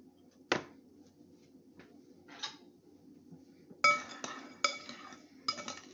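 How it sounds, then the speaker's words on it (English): Seasoned roast chicken ingredients with sage being stirred in a dish, giving a sharp utensil clink, a few faint scrapes, then a cluster of bright metallic clinks and taps against the dish near the end, close and quiet. "Stir it up"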